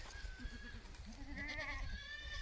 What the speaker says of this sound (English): Goats are very playful creatures.